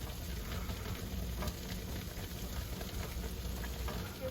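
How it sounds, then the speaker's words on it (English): Butter swim biscuits sizzle in a pan of melted butter, a steady, close crackling hiss with faint pops that runs evenly the whole time, with no voices. "They are sizzling."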